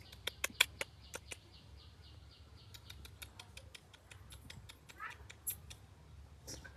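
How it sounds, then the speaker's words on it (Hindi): A kitten in a small home garden gives faint, distant mews amid sharp chirps and clicking bird calls over a quiet outdoor background. "यहाँ एक बेबी जैगुआर सॉरी बिल्ली का बच्चा है"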